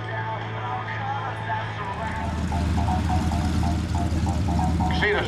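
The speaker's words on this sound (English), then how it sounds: "the Sherpa's now landed, so it'll be taxiing back and picking up the paratroopers" A Short Sherpa aircraft taxis after landing at an airshow, its engine a steady low drone that rises slightly and holds, with a crowd and loudspeaker voices talking over it.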